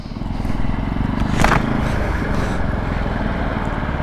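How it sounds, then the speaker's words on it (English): A Benelli Tornado Naked T125 engine drones loudly and continuously while being ridden, mixed with wind rush, with a short rise in revs partway through. "The engine is nice and responsive. Easy to downshift, easy to blip the throttle while you downshift."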